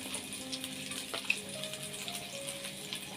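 Chopped garlic frying in melted butter for white sauce macaroni, a soft steady sizzle close by with a faint clink partway through and no talk.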